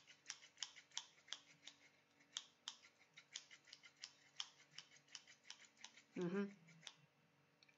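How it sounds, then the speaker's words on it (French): Scissors snip in a quiet, close-up ASMR setting, giving a steady series of sharp, crisp clicks about twice a second. A short voiced sound cuts in near the end. "le bruit du ciseau, ça vous rappelle quelque chose peut-être?"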